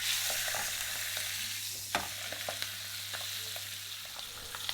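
Whole chicken stuffed with foie gras searing in a pan alongside neck trimmings, a soft steady hiss of fat with scattered pops and a few light utensil clicks, close and quiet with no voices.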